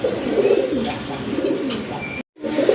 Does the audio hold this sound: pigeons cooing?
yes